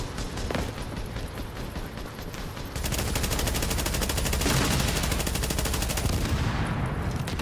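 Sustained automatic gunfire in Tom Clancy's The Division video game as players shoot at an enemy chopper, dense rapid bursts that grow louder and fuller after the first few seconds and continue without a break.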